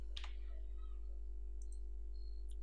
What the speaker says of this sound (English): press tab button and just simply type shuffle